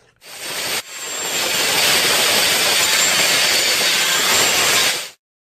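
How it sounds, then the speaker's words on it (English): A power tool grinds or saws steadily through a metal paddle drill bit, a loud continuous hissing rasp lasting several seconds after a brief start and stopping abruptly. "that was obviously me cutting down my paddle bit because I can't find the right size"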